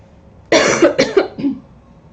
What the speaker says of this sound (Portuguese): perdão pela tosse aqui, deve ter atrapalhado o áudio